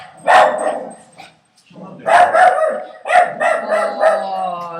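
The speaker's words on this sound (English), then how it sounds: "that's Daisy the dog" A dog barks and yelps in bursts, close and fairly loud, with harmonic howl-like calls between pauses and no talk over it.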